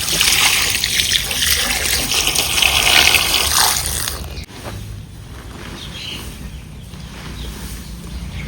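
Water pours over clothes to soak them for washing, a strong splashing gush that eases into a quieter trickle partway through, in a village setting.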